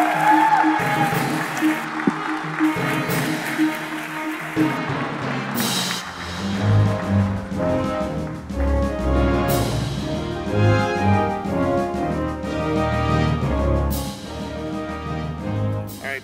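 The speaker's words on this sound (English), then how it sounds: "nice round of applause for all the nominees" Audience at a live pinball awards event applauding for the nominees, sustained clapping that swells and fades over about sixteen seconds, with bursts of louder claps and some voices mixed in.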